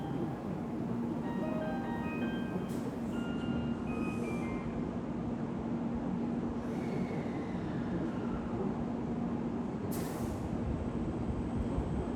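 A Japanese bullet train rumbles steadily at close range in a station with a constant mechanical drone, faint high whines and brief squeals rising above the noise.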